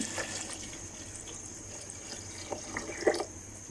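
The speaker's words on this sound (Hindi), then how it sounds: "अब इसमें पानी ऐड कर देंगे।" Water is poured into a pot of rice during cooking, a soft steady stream with a few brief splashy bursts near the end, fairly close and without talk.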